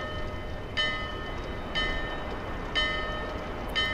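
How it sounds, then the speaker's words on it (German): A bell in the Dark Souls 2 video game tolls four times at steady, roughly one-second intervals, each strike ringing out clearly over a low, constant ambient rumble. "Wir läuten eine Glocke und."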